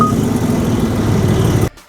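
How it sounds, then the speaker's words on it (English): A Porsche 911 GTS T-Hybrid of the 992.2 generation runs its engine with a close, steady low rumble that cuts off abruptly near the end, leaving near silence. "this is how the latest iteration of a 911 goes"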